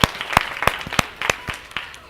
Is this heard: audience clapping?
yes